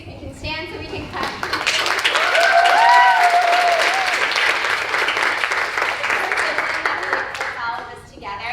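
An audience at a school production of A Midsummer Night's Dream claps for a member of staff: loud, sustained applause that swells and then tapers, with children's voices and cheers over the clapping.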